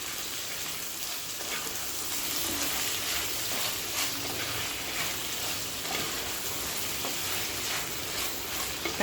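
Tomatoes for chutney sauté in a pan, giving a continuous close hiss of frying with faint intermittent stirring scrapes throughout, no one speaking.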